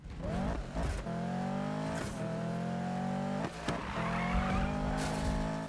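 Car drifting in the Need for Speed racing game, with a sustained loud engine note shifting pitch through revs and gear changes, overlaid by continuous tire squeal and skidding, close and steady throughout.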